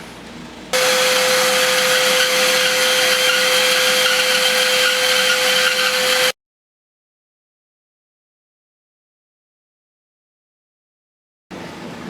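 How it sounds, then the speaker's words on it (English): A vertical bandsaw with a 1/4 inch blade cutting spalted oak whines loudly and steadily with a constant hum for about six seconds, then cuts off into silence before restarting briefly. "Using a 1/4 inch blade on my vertical bandsaw"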